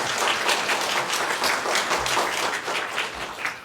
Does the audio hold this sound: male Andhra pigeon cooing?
no